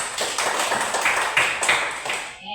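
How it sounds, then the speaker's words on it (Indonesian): A classroom audience claps for a student group that has just presented. The applause is dense and steady at close range for about two seconds, then thins out and fades at the end. "Silakan kelompok yang kita tepuk tangan dulu buat mereka."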